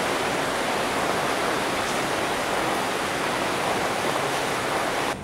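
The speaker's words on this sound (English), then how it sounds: "this is the longest I've seen it rain" Dense, steady roar of heavy rain pours without pause in Koh Samui, Thailand, loud and uniform, with no voices, ending abruptly.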